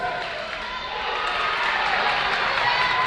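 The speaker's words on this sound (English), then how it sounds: "The crowd's into the game." Crowd noise at a high school senior boys basketball game between Waldron and Danville, a steady broad roar of voices and cheering that swells slightly over a few seconds, with no single voice standing out.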